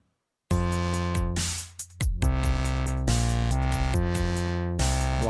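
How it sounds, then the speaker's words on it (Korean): Wobble bass synth patch built in Reason, its filter frequency swept by an LFO, gives a loud, sustained bass tone that surges and pulses in repeating wah-like cycles after a brief silent start, with no talking. "이 레이트를 가지고 오토메이션을 해주면 와블 베이스 사운드를 만들 수 있겠죠"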